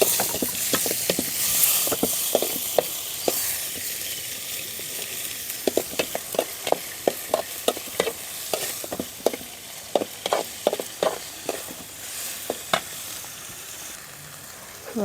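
Tomatoes, onions and chillies frying in a pan over a wood-fire stove give a steady sizzle, broken by frequent sharp scrapes and clacks of stirring that come in uneven bursts, with no voices.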